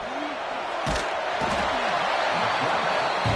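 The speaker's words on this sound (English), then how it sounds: "listen to this crowd noise. This stadium is vibrating." A packed stadium crowd roars steadily in the College Football 26 video game, a dense, loud wash of noise with a few sharp thuds rising through it.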